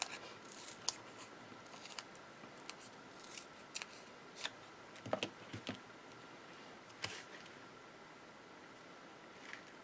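Scissors snipping a die-cut paper strip into halves and thirds for crafting, a few faint, scattered crisp snips and light paper rustles spaced irregularly over quiet room tone.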